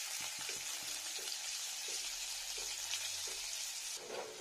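Chopped onion frying in mustard oil in a pan, a steady bright sizzle running throughout with a few soft clicks and scrapes of a utensil, close and fairly loud, no talking.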